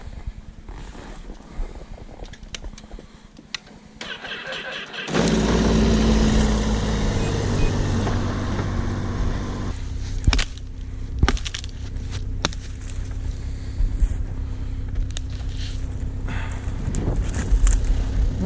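Wind blows outdoors along a trail, starting as a quieter rustle, then turning into loud, steady buffeting against the microphone partway through, with scattered sharp clicks and knocks mixed in.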